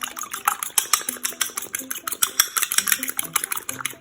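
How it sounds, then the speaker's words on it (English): A single egg being whisked briskly for an egg wash for Dutch boeterkoek (butter cake): a fast, steady run of light clicking taps against the bowl, close and continuous, with no talking. "I'm just gonna take one egg and then I'm going to whisk it up"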